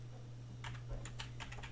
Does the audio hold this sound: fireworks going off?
no